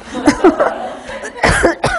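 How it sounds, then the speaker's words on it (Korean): A man coughs a few times at close range, a teacher in a classroom lecture on health, with short harsh bursts mixed with brief voiced sounds. "기침 좀 하고"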